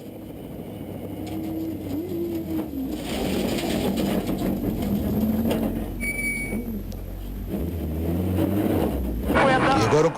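Filipe Pires's rally car at the Rally do Porto Santo 2014, heard onboard: a steady engine drone rising and falling in pitch through gear changes, with a co-driver calling pace notes over it.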